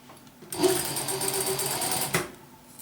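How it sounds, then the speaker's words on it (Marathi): A sewing machine stitches a zipper chain to fabric, starting abruptly and running in one fast, steady whirring burst of about a second and a half before stopping. The sound is close and clear, with no talking. "खाचामध्ये ठेवून शिलाई घ्यायची आहे"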